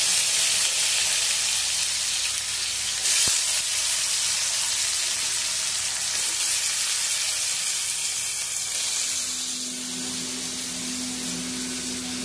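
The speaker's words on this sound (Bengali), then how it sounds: "কড়াইতে তেল গরম হয়ে গেছে। এবার আমি আলুগুলোকে ভেজে নেব।" Potatoes frying in hot oil in a wok, a steady broad sizzling hiss held at an even loud level throughout, with a brief sharp tap near the start and a faint low hum toward the end, no talk.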